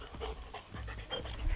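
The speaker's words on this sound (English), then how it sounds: "our dog. They love to play." A puppy pants quickly and steadily up close, soft rhythmic breaths repeating through the moment, with no one talking over it.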